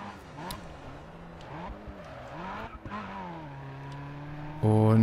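A car drifting in the GRID Autosport racing game, with a steady engine drone and wavering tire squeal through the slide, then a sudden louder tonal burst at the end.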